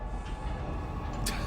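A train pulls in at Tisa Spaceport in the Star Citizen video game, giving a loud continuous rumbling rail roar with a brief hiss of air near the end.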